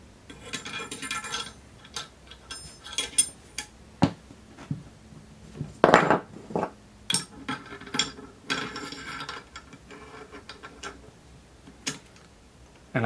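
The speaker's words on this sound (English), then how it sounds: "we're just going to trial fit this this gas cylinder." Metal clinking and tapping as an M14 gas cylinder is trial fitted onto a peened barrel: many light, irregular close clicks and taps with a brief scrape in the middle.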